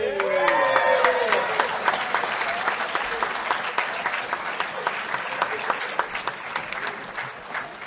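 A conference audience claps in sustained, dense applause that fades gradually over several seconds, with scattered louder claps near the end. Voices can be heard briefly at the start.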